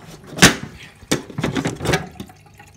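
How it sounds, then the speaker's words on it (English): Water sprays and drains through a home tropical aquarium's trickle filter, a few close splashing bursts and dribbles separated by brief quiet gaps. "at night I turn the filter off because it's a trickle filter, and it's kind of really, not really noisy, but noisy"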